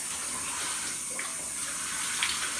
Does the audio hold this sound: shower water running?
yes